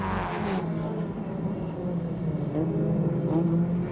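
Mazda RX-7 race cars at the 1995 Surfers Paradise race run into the pits, starting with a loud engine burst and then settling into a steady, fairly loud engine drone with faint crowd and track noise.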